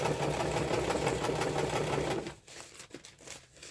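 A sewing machine stitches fabric with a fast, continuous mechanical chatter, close and loud, then stops after about two seconds, leaving soft handling noises.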